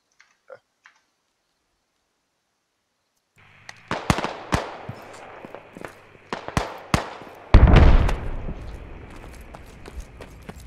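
Mortar rounds explode in the video game Squad, a quick burst of sharp, loud impacts with one heavier, booming blast, following a few seconds of near silence.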